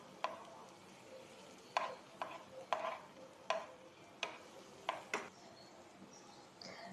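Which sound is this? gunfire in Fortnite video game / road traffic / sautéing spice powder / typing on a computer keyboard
sautéing spice powder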